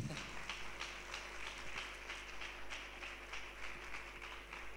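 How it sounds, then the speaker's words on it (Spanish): Church congregation applauding together, a steady continuous patter of many hands clapping at moderate distance, fairly faint with room hum beneath. "¿cuánto le pueden dar un aplauso al Señor por este?"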